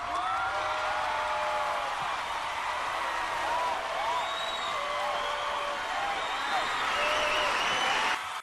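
A crowd applauds and whoops for a birthday, with steady dense clapping and scattered cheers sustained for several seconds, loud and continuous until it cuts off.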